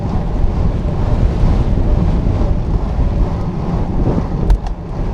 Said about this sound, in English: Woo, windy and very cold.